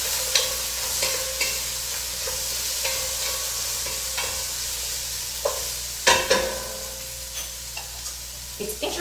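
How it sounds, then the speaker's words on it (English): A spoon stirs a detox veggie soup with freshly grated ginger in a pot, scraping and clinking in several distinct strokes over a soft steady sizzle, close and clear. "Give it a stir."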